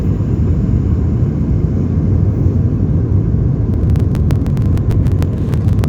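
Steady, loud low rumble of engine and airflow fills an Aer Lingus airliner cabin on final approach into Glasgow Airport, with a run of faint, quick ticking clicks near the end.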